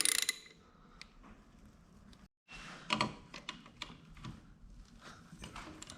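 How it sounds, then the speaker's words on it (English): A ratchet loosens the 10 mm brake caliper bolts on a Moto Guzzi motorcycle, giving quiet bursts of mechanical clicking and a few sharper metallic knocks after a brief pause, close in a quiet workshop. "So now we're just going to basically pull these bolts off, which are at 10."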